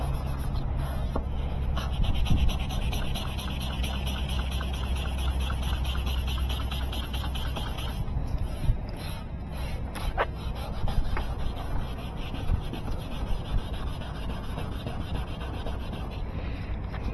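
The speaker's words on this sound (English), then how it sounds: "the sandpaper's not just gliding across it, it's actually cutting into the headlight at this point" Sandpaper rubs back and forth across the lens of a 2018 Porsche Cayman GTS headlight, a steady close scratching with rhythmic strokes that vary in intensity over the whole stretch.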